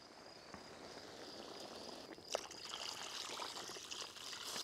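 Water is poured into a pot of soup with meat, pepper and cumin seeds, a soft, faint trickling and splashing that builds after a brief clink and continues to the end.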